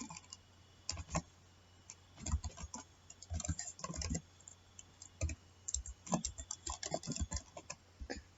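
Someone typing a command on a computer keyboard while configuring a Debian Linux mail server, a close run of irregular key clicks in bursts with short pauses.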